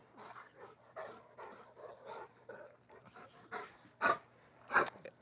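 A Rottweiler and other dogs play roughly nearby, with panting, scuffling, growls and a couple of sharp barks toward the end, fairly quiet overall.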